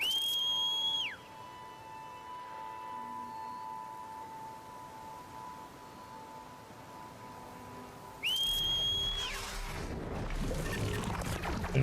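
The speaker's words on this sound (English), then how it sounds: "Can you hear my first whistle" Two whistles from the player character in Horizon Forbidden West: each is a short, clear, high tone that slides downward at its end, the first at the start and the second later, both over quiet ambient game sound.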